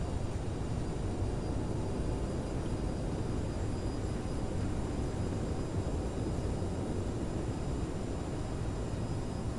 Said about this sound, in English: Touchdown. Reversers engaged.